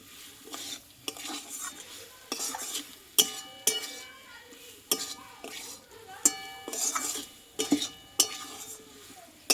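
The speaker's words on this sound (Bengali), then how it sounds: "দিয়ে আরও আমি এক মিনিট মতো মশলার সঙ্গে কচুটা একটু কষিয়ে নেব" Taro (kochu) being sautéed with spices in a pan, with repeated spatula scrapes and clinks against the metal in an uneven rhythm over a low fry sizzle, close by.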